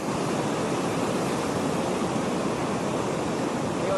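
Big surf breaks at Calangute Beach in Goa, India, producing a loud, continuous roar of crashing and washing water with no voices.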